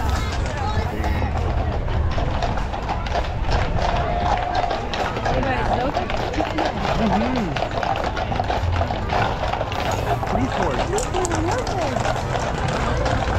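Horses move along the street in the 2022 Toronto Santa Claus parade, their hooves clopping in an irregular rhythm over a constant crowd murmur while someone talks over it close to the recorder.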